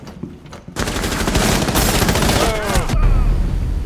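Gunfire in Rainbow Six Siege during a team deathmatch on the Consulate map: rapid, loud bursts of automatic fire crackle close by in dense volleys.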